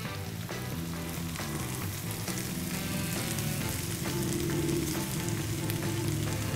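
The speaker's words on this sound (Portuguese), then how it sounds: "Aí, deixou fritar bem." Meat frying in a pan, rendering its fat for a rice-with-bananas dish, gives a steady, dense sizzle that runs unbroken throughout with a musical bed underneath.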